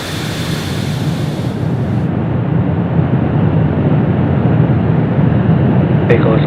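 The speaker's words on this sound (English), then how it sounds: "Ignition and liftoff." A SpaceX Falcon 9 rocket lifts off carrying Starlink V2 Mini satellites, filling the air with a loud, steady roaring rumble like heavy surf or wind that holds without a break.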